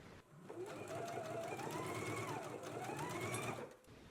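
A sewing machine basts jumpsuit fabric in place, running in one steady continuous whir for about three seconds before stopping, close and fairly loud with no talk over it.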